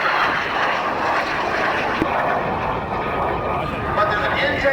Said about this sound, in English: Single-engine aircraft.